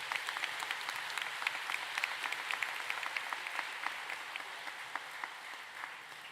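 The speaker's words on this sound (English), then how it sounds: "Let's give them all a round of applause" Audience applause at a spring commencement ceremony, an even wash of distant clapping from a large hall that fades slightly toward the end, with sharp individual claps standing out.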